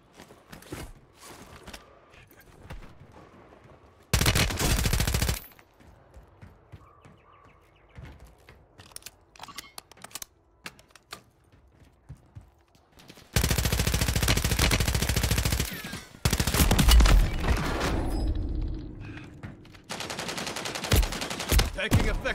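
Gunfire in the Warzone 3 Plunder game mode, with loud sustained bursts of automatic fire separated by quieter stretches of clicks and movement.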